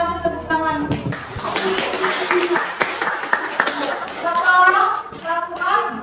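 A classroom audience claps in an Islamic religious education teaching session, sharp irregular hand claps scattered throughout while voices talk over them.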